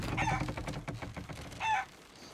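A chicken in the Sea of Thieves video game clucking close by, two short bursts of throaty clucks separated by a pause over low game ambience.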